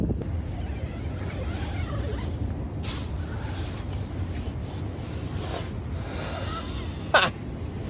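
Ocean surf near a campsite rolls as a steady broadband wash mixed with wind buffeting the microphone, with a brief sharp knock near the end and no clear speech.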